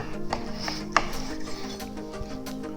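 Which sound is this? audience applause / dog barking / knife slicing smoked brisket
knife slicing smoked brisket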